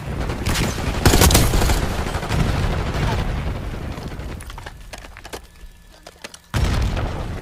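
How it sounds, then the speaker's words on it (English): Black Ops 6 gunfight with a flashbang grenade: loud bursts of rapid gunfire and sharp booms up front, thinning into a quieter ringing stretch with a high steady tone, then another abrupt loud blast near the end. "Throwing flashbang."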